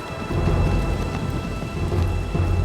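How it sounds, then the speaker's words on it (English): Thunderstorm with heavy rain over Boston on a bleak April day, a steady loud roar of downpour with low rumbling thunder rolling underneath throughout, no voices. "The slow-moving storm is now hanging over Boston."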